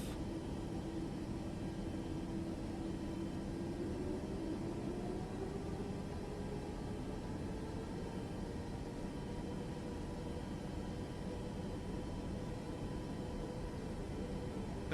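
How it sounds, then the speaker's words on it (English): An aircraft in Microsoft Flight Simulator 2024 takes off: a steady, loud engine roar with broad rushing noise that holds throughout, a tone sliding gradually upward as power builds, and no voices. "we're clear for takeoff"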